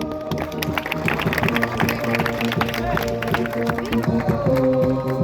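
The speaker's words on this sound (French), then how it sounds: "On peut les applaudir." A crowd claps for young performers at a toro piscine event held by Manade Colombet in Rochefort-du-Gard, the applause scattered and mixed with loud festive music and crowd noise.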